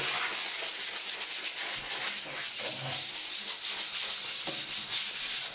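Sandpaper scrubbing across a bathtub surface during an overlay repair, a steady, dense rasping rub that runs continuously with quick back-and-forth strokes, close and alone.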